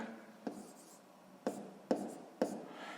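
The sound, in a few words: writing in a table with a pen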